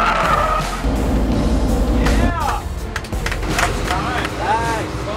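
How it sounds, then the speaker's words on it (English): An Audi RS5 is driven hard at a ride-and-drive event, its engine roaring close by while the tires squeal and skid through turns, with people talking over the noise. "today I got to drive an Audi RS5"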